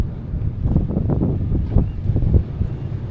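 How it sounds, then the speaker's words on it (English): Gusty wind buffets the microphone on the open deck of a ferry near Kingston, a steady low roar with rough swells and bursts, nothing else standing out. "Windy as hell."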